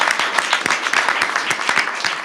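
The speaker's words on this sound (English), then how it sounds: "Yes, a round of applause." Scattered clapping from a modest crowd at a bill signing for a large tax package, a brief burst of individual hand claps heard fairly close and at moderate volume.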